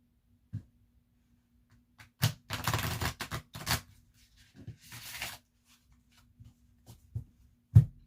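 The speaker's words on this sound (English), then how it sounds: "Give it one more shuffle and then pull some cards for Raruwach." A Robin Wood tarot deck being shuffled by hand, soft scattered riffles and card slaps in short bursts between quiet pauses, close and fairly faint, with no talking.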